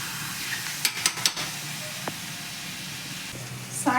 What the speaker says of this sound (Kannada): ಸ್ವಲ್ಪ ಎಣ್ಣೆ ಹಾಕ್ತೀನಿ ಮತ್ತೆ ಇದನ್ನ ತಿರುಗಿಸಿ ಪುನಃ ಬೇಯಿಸ್ಬೇಕು ಮತ್ತೆ ಇದನ್ನ ತಿರುಗಿಸ್ತಾ ಇದ್ದೀನಿ